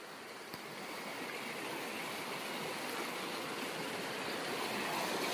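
Rain-swollen water after several days of rain rushes past a village, a steady, close roar of flowing water that holds evenly throughout with no voices.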